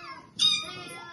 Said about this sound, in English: It's a cat and three kittens.